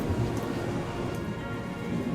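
Steady rain pattering over a low, rolling thunder rumble in the video game Bravely Default, a constant storm bed with no talk.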